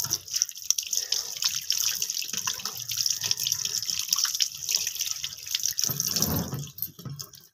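A pear rinsed under a running kitchen tap, water streaming and dripping steadily close to the microphone, with a louder splash near the end and no talking.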